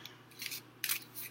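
A deck of blue tarot-style cards with little stars is shuffled in quick, crisp papery bursts of riffling and rubbing, close and fairly quiet, with no talking.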